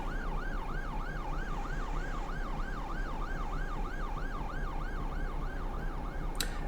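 Emergency vehicle sirens in the OMSI 2 bus simulator game, with a loud, steady wailing siren cycling evenly throughout over a low engine rumble.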